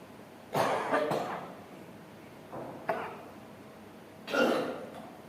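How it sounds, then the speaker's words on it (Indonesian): Three harsh coughing bursts, close and fairly loud, the first a double cough, separated by quiet pauses. "jadi akhirnya batuk ini"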